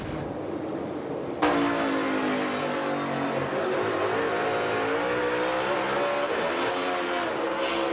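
A NASCAR Cup Series stock car engine at Sonoma in 2023 roars loud and steady. Partway through, the pitch jumps as the driver mis-shifts into a lower gear instead of upshifting.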